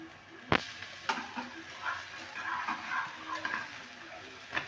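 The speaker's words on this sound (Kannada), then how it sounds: "ಒಂದು ಮೊಟ್ಟೆ ಒಡೆದ್ಬಿಟ್ಟು ಈರುಳ್ಳಿ ಟೊಮೊಟೊ ಹಸಿಮೆಣಸಿಕಾಯಿ ಕೊತ್ತಂಬರಿ ಹಾಕಿದರೆ ಸಾಕು ಮೊಟ್ಟೆ ಫ್ರೈ ಆಗಿರುತ್ತೆ" An egg masala omelette with onion, tomato, green chili and coriander fries in a pan with a quiet sizzle, near and soft, broken by a sharp utensil tap and a few scraping stirs.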